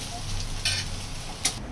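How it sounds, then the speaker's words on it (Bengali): Sliced eggplant frying in oil in a pan: a steady, close hiss of sizzling with a couple of brief scraping stirs, no voices. "এদিকে বেগুন ভাজা হচ্ছে।"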